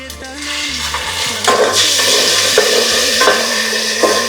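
A paste of three tomatoes with half a spoon of turmeric cooks in hot oil for egg biryani, a loud close sizzle that swells as it hits the oil, with stirring scrapes and occasional utensil knocks.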